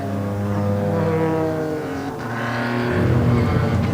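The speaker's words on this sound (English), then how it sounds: "As you can hear, the safety car still out on the track" Safety car engine droning steadily around the race track at Donington Park, a continuous mid-distance motor tone with a shifting pitch as it passes.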